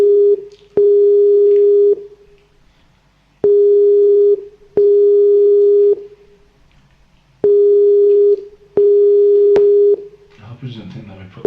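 Repeated ringback tones while calling a guest named Gary during a talk show interview: steady beeps about a second long separated by regular pauses, fairly loud and clear, with faint voices stirring at the end.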